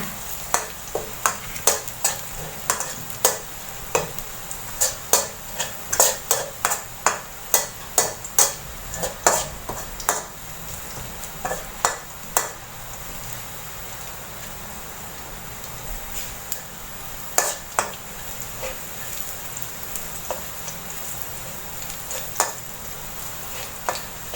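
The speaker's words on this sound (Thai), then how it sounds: "ผัดกระเทียมจ้ะ" Garlic stir-fries in a hot pan with a steady, faint sizzle, broken by frequent sharp clacks of a spatula scraping and tapping the pan in irregular bursts.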